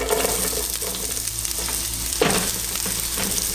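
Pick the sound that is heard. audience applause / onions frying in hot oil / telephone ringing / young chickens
onions frying in hot oil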